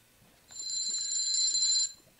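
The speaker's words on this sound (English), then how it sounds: "That's the alarm." A countdown timer alarm in a game shrills for about one and a half seconds, a steady high-pitched electronic ring that starts and stops abruptly, alone with no talking.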